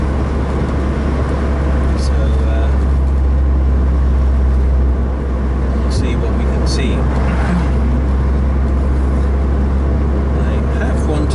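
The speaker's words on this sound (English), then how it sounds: "Now in sixth gear." Mazda MX-5 NC facelift cruising in sixth gear at about 80: a steady low engine drone and road roar from inside the cabin, with a person talking over it.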